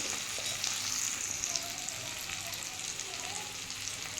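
Spices sizzling in hot oil with taro stolons and shrimp in a Bengali kitchen, a steady close crackling fry that runs evenly throughout without talk.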